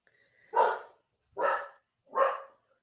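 A dog gives three separate, evenly spaced barks at moderate distance in an otherwise quiet room.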